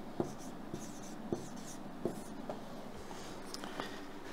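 Pen strokes scratch on a writing surface with a few short taps and scrapes spread irregularly over several seconds, fairly quiet and close against faint room noise, with no talking.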